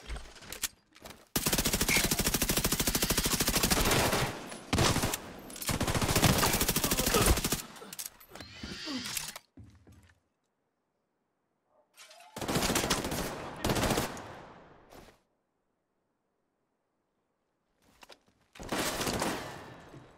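A turret machine gun in The Division 2 fires long, loud sustained bursts, separated by brief silences, with rapid repeated shots near and harsh.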